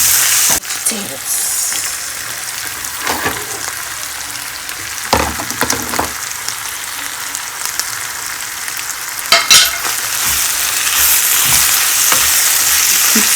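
Fried rice with curry and potatoes sizzles loudly and steadily in a frying pan, the hiss broken by occasional scrapes and knocks of a stirring utensil against the pan.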